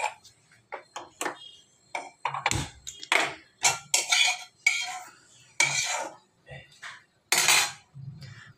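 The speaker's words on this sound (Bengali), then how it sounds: "এবার আমি কড়াইটা বসাবো।" Metal kadai set down on a stove with a series of sharp clanks, clinks and scrapes of cookware, close and loud, coming in uneven bursts across the moment.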